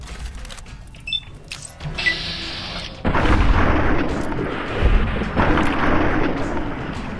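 Gunfire in Fallout: New Vegas, a loud burst of shots and booming impacts that swells into sustained, rumbling noise over the rest of the moment, with no talk.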